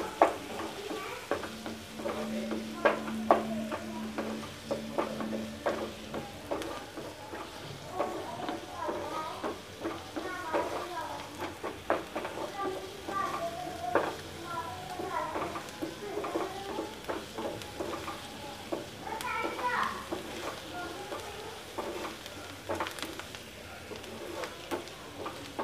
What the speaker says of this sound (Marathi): आपला कांदा थोडंसं आपण कलर बदलेपर्यंत परतून घेऊया कांद्याला एकदम छान असं.